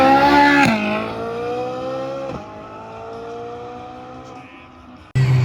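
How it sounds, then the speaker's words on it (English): A Ferrari 458 Italia V8 guns it past at a small supercar meet, a loud rising exhaust wail that climbs through the rev range, shifts and fades as it drives away, then a sudden burst of close noise at the end. "you guys just heard the 458 Italia gun it by here. It's a V8."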